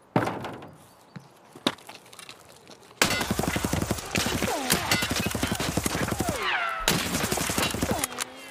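Sharp gunshots in a video game during a raid, a few isolated cracks at first, then dense rapid fire packed with impacts under excited overlapping voices.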